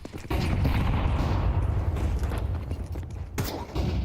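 A grenade blast in Counter-Strike: a loud, broad rumbling explosion that swells in at once and rolls on for several seconds, with a second sharp burst near the end, no voices over it.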